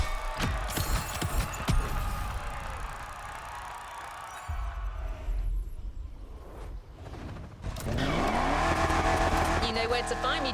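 A Ferrari LaFerrari in The Crew Motorfest roars and revs hard, rising and falling in pitch with a stretch of quieter rumbling before the engine surges loudly again near the end, while a voice speaks over part of it.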